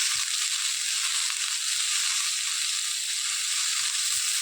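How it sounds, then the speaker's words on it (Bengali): Eggplant slices for a mashed eggplant dish fry lightly in a small amount of oil, giving a steady, even crackling sizzle that runs continuously, close and moderately loud, with no talking. "এবার হালকা করে ভেজে নেব"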